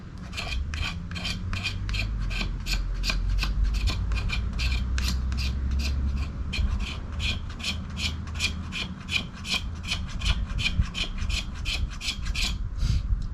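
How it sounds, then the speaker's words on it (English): Work Tuff Gear knife spine scraped steadily along wood, shaving off fine curls in a fast, even rasping rhythm of many repeated strokes, close and continuous with no talking. "Spine is making fine shavings,"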